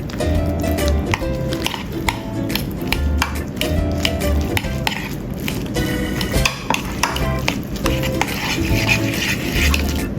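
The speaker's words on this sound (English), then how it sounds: "Mix evenly." A spoon works through a filling of mashed potato, egg, black pepper and mayonnaise, making repeated soft squishing and scraping strokes with light taps against the bowl, steady throughout.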